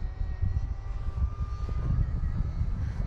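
A small Ultrix RC plane flies right overhead in the evening, its motor giving a steady buzzing whine over a rumbling wind-like background, fairly close and constant.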